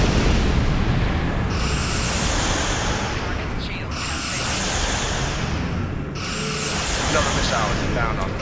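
Missiles explode in Star Trek Online in three loud, roaring bursts at regular intervals, each with a hissing streak, layered over constant space-combat noise and a speaking voice.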